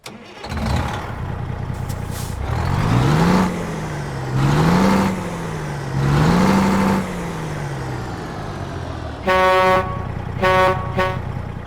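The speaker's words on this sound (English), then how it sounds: "let's start up this Freightliner FLD and let you guys hear the beautiful sound sets that are included with this truck" A Freightliner FLD truck engine in American Truck Simulator cranks and starts, then revs up and down in three rising and falling swells, loud and close, followed by a few short horn-like toots near the end.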